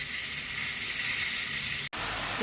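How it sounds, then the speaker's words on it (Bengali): Red amaranth greens sizzle steadily with garlic and chillies in a hot pan, a constant hiss broken by a brief silent gap before resuming. "লাল শাক ভাজা হচ্ছে রসুন দিয়েছি আর লঙ্কা দিয়ে লাল শাকটা দিয়েছি"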